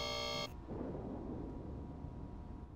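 Thunderstorm in the horror video game Amanda the Adventurer: a steady electronic alert tone cuts off abruptly and gives way to a continuous low rumble and rain-like roar, with no speech.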